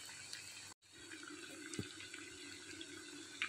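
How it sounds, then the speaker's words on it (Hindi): Potato nuggets frying in hot oil give a steady, close, even sizzle that runs throughout, with a brief dropout near the start and no talking. "नगेट्स हमारे फ्राई हो रहे हैं"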